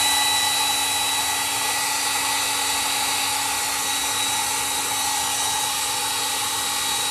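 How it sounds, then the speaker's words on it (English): A hair dryer runs continuously at a steady pitch, a loud unbroken whirring hum with a high whine, no voices. "what is she doing with the hairdryer?"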